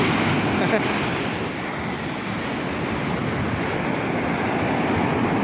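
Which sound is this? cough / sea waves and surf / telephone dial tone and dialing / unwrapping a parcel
sea waves and surf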